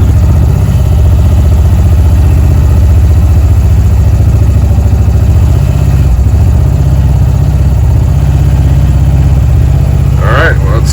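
A Honda Pioneer 700 UTV engine running at a loud, steady idle in very cold weather, a constant low throbbing drone close to the microphone, with a person talking over it.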